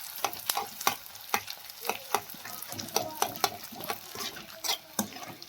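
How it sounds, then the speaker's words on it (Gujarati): Edible gum (gond) fries in hot ghee with a steady crackling sizzle, broken by regular sharp clicks and scrapes as a spoon stirs the pan close by. "ઘી ગરમ સરસ થઈ ગયું છે, તેમાં આપણે ગુંદર એડ કરીશું અને ગુંદરને તળી લઈએ."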